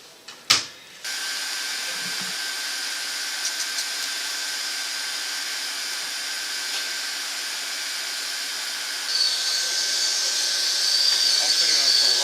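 Welding produces a steady, continuous hiss, starting after a sharp click and growing slightly louder and brighter toward the end.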